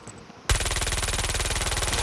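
Video game machine pistol fire erupts after a brief quiet moment into a loud, rapid, continuous burst of closely spaced shots lasting to the end.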